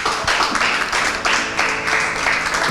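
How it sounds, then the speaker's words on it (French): A brief burst of audience clapping at a televised makeup competition final, fairly close, with uneven pulses of hands over a short stretch and no voices over it. "On va applaudir pour Suzy Tchemeni"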